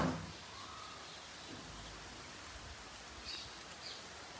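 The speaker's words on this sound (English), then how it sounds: "Oh, it's already raining out here." Rain falls outdoors in Vrindavan, a soft, even hiss of drops on surfaces that stays faint and steady throughout, with a few brief higher sounds near the end.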